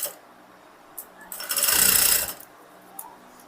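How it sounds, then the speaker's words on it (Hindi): A sewing machine stitches blouse fabric in one short run of rapid, buzzing needle strokes lasting under a second, with a few faint clicks before and after in a quiet room. "रख करके आपको ये सिलाई लगाना है"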